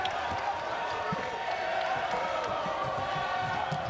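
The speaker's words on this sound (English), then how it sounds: "You'll hear that one from the crowd" A steady, dense crowd roar fills the arena at a North Carolina vs. Florida State ACC women's college basketball game, swelling under a commentator's voice with faint ball bounces.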